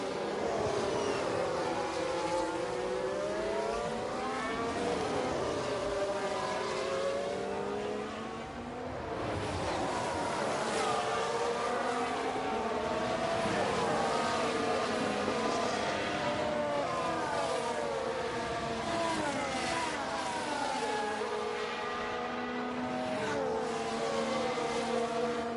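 A Red Bull Formula 1 car in the video game F1 Manager 22 accelerates, its engine whining and rising through gears in repeated sweeping pitch climbs, a steady moderately loud racing drone lasting throughout.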